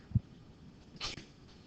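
A single brief, faint sneeze in a quiet classroom, a short soft burst with a little low breathy noise just before it.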